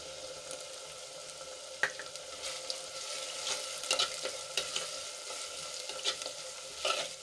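Chillies and green garlic sautéing in a pan for a green chickpea curry, a steady faint sizzle broken by a few sharp clinks and scrapes of a stirring spoon.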